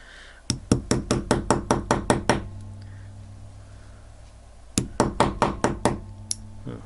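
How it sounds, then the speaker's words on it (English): A small hammer taps a pin into a Seiko stainless steel watch bracelet: a quick run of about ten sharp, evenly spaced metallic knocks, a pause, then another burst of about six, close and clear. "the side you hammer in other words."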